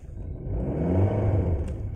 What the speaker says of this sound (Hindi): हॉय करके गाड़ी आवाज करेगा, मतलब रेस लेगा